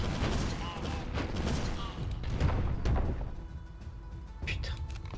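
Cannon fire in the video game Airborne Empire, set in a desert: deep booming shots and thuds land in irregular bursts under steady low rumble, with a voice talking over parts of it.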